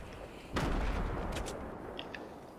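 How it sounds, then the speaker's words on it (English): A grenade going off in Fortnite: one sudden heavy blast that rolls into a long rumbling decay, followed by a couple of faint distant pops. "Oh, that's a grenade. Oops, threw too many grenades."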